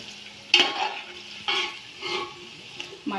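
Chopped onions frying in hot oil in a pan for a Hyderabadi vegetable biryani, a soft steady sizzle broken by several louder bursts of stirring and scraping, close and fairly quiet, with no talking.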